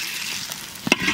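A bay leaf sizzles in hot mustard oil in a heated wok, a short close hiss with a quick crackling burst near the end.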